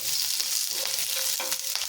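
Brief burst of hot tempering sizzling in a pan while making khaman, a dense steady hiss with faint stirring scrapes.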